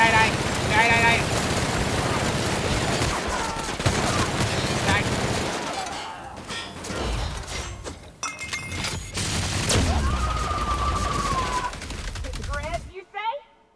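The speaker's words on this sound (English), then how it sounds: "Did she shoot that person through the counter?" Gunfire in a video game, a long run of loud rapid shots and bursts that breaks into scattered cracks and thuds, with a person talking over parts of it.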